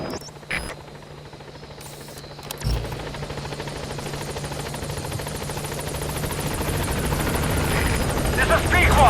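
Pequod, the support helicopter in Metal Gear Solid V, approaches a landing zone with steady rotor thrum and engine whine that grows louder and closer over about nine seconds. A radio voice speaks over it.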